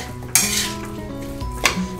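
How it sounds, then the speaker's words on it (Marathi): A potato filling mixture is stirred in a pan, two sharp spoon clanks against the metal standing out over a light sizzle and softer scraping. "मिक्स करून घ्यायचे"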